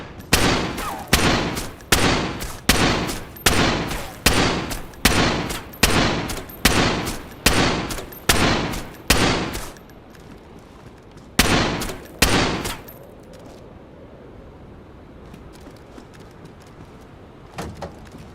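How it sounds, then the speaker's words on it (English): Gunfire rings out during a raid on a snowy survival base in DayZ: about a dozen loud, evenly spaced single shots, then a pause, then two or three more shots before quiet ambience. "I'm going to do a little bit of shooting."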